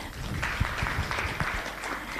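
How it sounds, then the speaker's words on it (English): Conference audience applause at an investment learning event in Kenya, a sustained crowd clapping with a few sharper, closer claps standing out, steady and moderately loud, no talking. "A round of applause."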